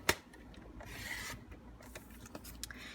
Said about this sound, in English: I'm just going to go ahead and cut that flap off as it is.